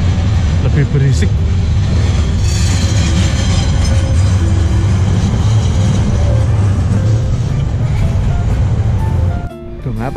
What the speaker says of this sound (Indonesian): Nah ini kereta yang lama ini, lebih berisik.